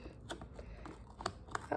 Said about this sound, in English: I have some really sharp scissors